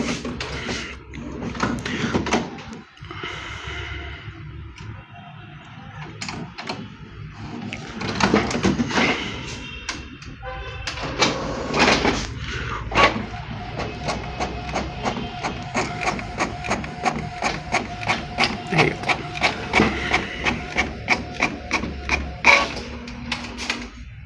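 Canon Maxify inkjet printer printing a colour photo from a flash drive, with whirring feed motors and mechanical clunks building into a long run of rapid, rhythmic print-head passes close by.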